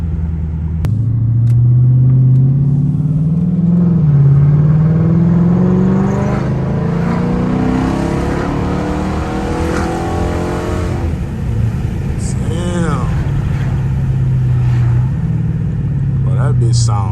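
Dodge Charger RT pulling hard on a main street, its engine revving up loud and close through climbing gears with deep rumbling exhaust, while voices talk over it.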